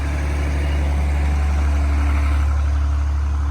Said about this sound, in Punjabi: ਰਾਤ ਨੂੰ ਜਨਰੇਟਰ ਲਾ ਕੇ ਬਹੁਤ ਦਾ ਪਾਣੀ ਭਰ ਰਹੇ ਹਾਂ